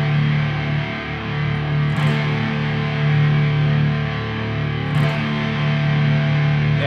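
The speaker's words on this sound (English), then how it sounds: "And you'll strum it four times" A distorted electric guitar chord is strummed four times, each hit ringing out long and loud, with no voices over it.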